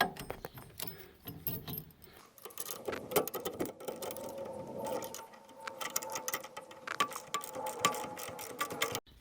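Screws are tightened on a 1966 Ford Mustang during a Borgeson power steering install, giving close metallic ratcheting clicks and tool rattles in irregular bursts.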